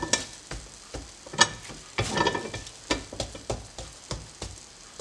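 A gordita de chicharrón prensado is pressed and turned on a hot comal, giving a close, crackling sizzle punctuated by repeated scraping and tapping sounds at irregular intervals.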